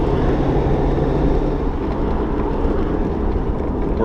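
A 1935 Packard Twelve convertible Victoria cruising at around 15 miles an hour in high gear, giving a steady, close engine rumble mixed with continuous road noise.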